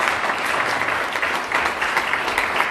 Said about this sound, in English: Let's give them a lovely round of applause,